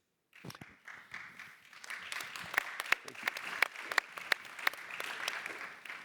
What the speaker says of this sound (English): judging by the applause, everybody is admiring the passion with which you're advocating for sustainability